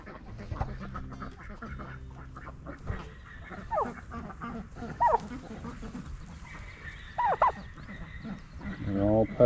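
A small yappy dog barks on a dairy farm in sharp, short yaps that come through intermittently under people talking, with other farm animal calls mixed in.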